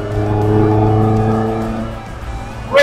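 A classic Ford engine fitted with throttle bodies revs hard close by, holding a steady strong harmonic drone that eases off, then a brief sharp rise in pitch near the end.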